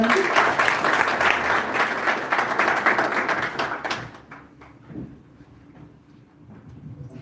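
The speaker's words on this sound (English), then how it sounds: "A round of applause for Mr. Ranjit" Audience clapping at a corporate partnership event for a cable company, loud sustained applause for about four seconds before tapering into scattered claps and quiet room noise.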